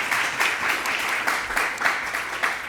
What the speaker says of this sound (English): I just want a round of applause for our faculty members who have supported our honor students.